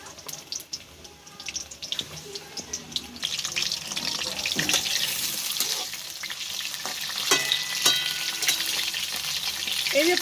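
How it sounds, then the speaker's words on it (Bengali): Pointed gourd (potol) frying in hot oil in a home kitchen, a soft continuous sizzle that builds and brightens over several seconds, joined partway by scattered clinks and a brief run of water. "এই যে পটলটা আমি তেলের মধ্যে দিয়ে দিয়েছি, এবার পটলটা তেলের উপরে ভেজে নেই"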